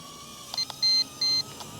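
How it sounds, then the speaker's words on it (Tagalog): A mini drone sounding its low-battery warning: a few short, high electronic beeps in quick succession, the later two longer and steady, over faint background hum. "Ayun, nagbi-beep na siya. Low battery na."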